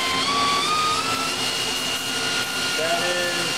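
The spindle of a Mazak FJV200 vertical machining center with Mazatrol Fusion 640M control runs at 5000 RPM, giving a steady high whine with shifting tones over a constant mechanical hum, close and fairly loud.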